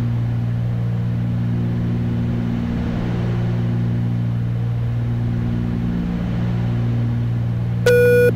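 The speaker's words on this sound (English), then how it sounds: "Gives a tone because it switched over and it saw the needle movement." A STEC 3100 autopilot sounds a short electronic tone near the end, clear and loud over the steady, droning engine hum inside a small aircraft cockpit.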